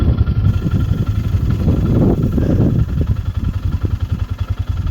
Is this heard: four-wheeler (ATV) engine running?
yes